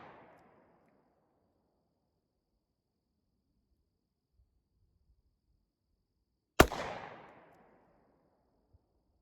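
A single sharp shot from a Taurus 605 T.O.R.O. revolver fired double action at a range cracks out loudly and echoes away. Quiet stretches surround the shot, and the tail of an earlier report fades at the start.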